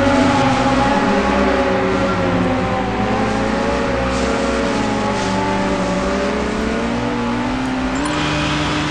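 Water scooter engine with turbo engaged in the racing game Riptide GP 2, a loud, continuous whining drone whose pitch slowly rises and falls as it runs, steady and close with no talking over it.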